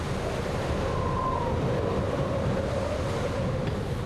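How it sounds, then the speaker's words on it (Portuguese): Wind roars steadily through a dangerous snowy canyon as snow begins to fall, a continuous loud, rushing broadband blast with no pauses. "Começou a nevar de verdade e o vento estava uivando."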